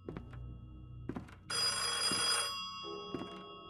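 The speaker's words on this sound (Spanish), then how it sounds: "Teléfono." A telephone rings inside a mansion in the horror game Affected: The Manor, with a bright electronic ring sounding in distinct bursts over quiet background tones.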